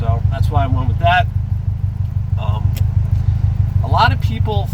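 A 2018 Subaru STI with an aftermarket catback exhaust rumbles steadily with a deep, throbbing low-end pulse while driving, loud and constant as someone talks over it.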